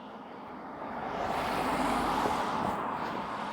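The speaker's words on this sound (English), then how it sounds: "Oh, here comes a car." A car passes on a residential street behind homes in Toronto in January, a broad rising and fading roadway whoosh that peaks mid-clip against steady outdoor background noise.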